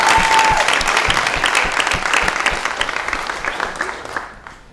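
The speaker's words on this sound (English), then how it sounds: "You can clap, it's okay." Studio audience at a late-night comedy show breaks into applause, a dense burst of many hands clapping that starts loud and gradually fades away toward the end.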